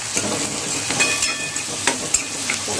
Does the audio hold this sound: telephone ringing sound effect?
no